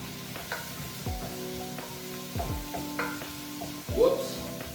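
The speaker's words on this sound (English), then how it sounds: "we're gonna give this a little toss. Stir it around just a little bit." Pasta sizzles in olive oil in a pan while being tossed and stirred, a soft steady frying hiss punctuated by a few scraping strokes and light knocks.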